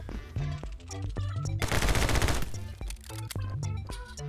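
Rapid bursts of video game gunfire crackle loud and close, with a long sustained volley in the middle, amid a game's musical tones.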